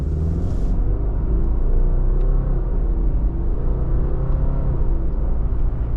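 A 2025 Subaru Crosstrek Sport cruising down the road, heard from inside as a steady low engine and road rumble with tire roar, constant and loud throughout.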